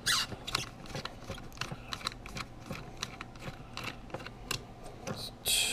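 Screws being backed out of a PS4 hard drive caddy, giving a run of small, close, dry clicks and ticks in an irregular rhythm, with a sharper scrape near the end.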